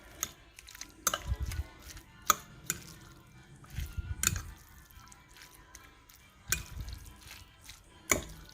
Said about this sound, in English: And now I'm just going to go ahead and start mixing.